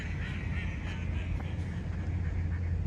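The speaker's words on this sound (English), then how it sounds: "That is a loud bird." A loud duck quacks repeatedly at Disney's BoardWalk at sunrise, sharp calls rising over a steady low hum of outdoor background noise.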